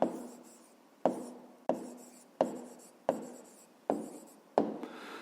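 A math answer being written out by hand in a series of about seven separate pen or chalk strokes, each a sharp scratchy start fading off, evenly spaced and close, with no talk.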